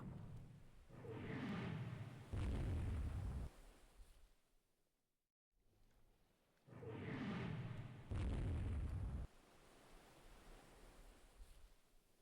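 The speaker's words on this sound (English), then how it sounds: "Izumo near miss heavy guns from the rear turret there" Heavy 10-inch naval guns fire from a warship's rear turret in the naval strategy game Rule the Waves 3: two deep, booming blasts, each trailing a long roar of rumble and spray, separated by a brief silence.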